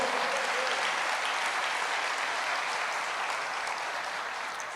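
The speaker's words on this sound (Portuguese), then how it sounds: "Amém, igreja? Aplauda o Senhor." Church congregation applauding during a sermon: a dense, steady wash of clapping from a large crowd that fills the whole stretch and fades slightly toward the end.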